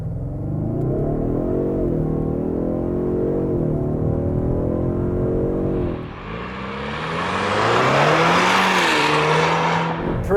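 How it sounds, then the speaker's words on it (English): A 2024 Ford Mustang EcoBoost with a 2.3-liter four-cylinder, no launch control, pulls away loud and close with a steady droning engine note, then a shift dip and a harder, rising, brighter roar as it accelerates. "2024 Ford Mustang EcoBoost without launch control."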